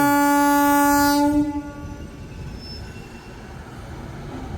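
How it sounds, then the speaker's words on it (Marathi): A train pulling into a station in Puri with a loud, sustained horn blast for over a second, then fading into the rumbling roar of the rolling cars, close by, no talking. "ही बघा ही पाठीमागे ट्रेन जस्ट आलेली आमची"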